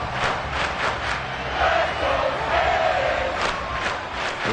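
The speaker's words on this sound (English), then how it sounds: "This crowd turning up the decibel level" Stadium crowd roaring steadily throughout a Madden 24 football video game, a loud continuous wash of cheering with swells of noise, no talk over it.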